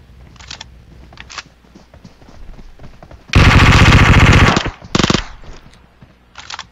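Rapid automatic gunfire from a sub machine gun in the PUBG Mobile battle royale game, a loud sustained burst of about a second followed by a shorter second burst, with faint footsteps and ambient game sound around it.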